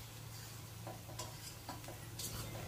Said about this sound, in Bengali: চারপাশ থেকে পেঁয়াজগুলো এনে আমি চাপা শুটকিটা ঢেকে দিচ্ছি।